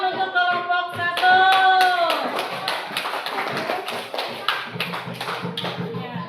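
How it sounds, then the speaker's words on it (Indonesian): A classroom of students claps for a group of classmates after their presentation in an Indonesian-language lesson, a scattered run of sharp hand claps with voices talking and calling out over them. "Tepuk tangan untuk kelompok 1."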